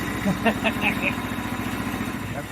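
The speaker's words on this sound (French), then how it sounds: "Le moteur, il est prêt." A Norwood sawmill engine (LM29V2 or LM30) running on a farm, ready to saw, giving a steady mid-pitched idling drone close by, with a person speaking briefly over it.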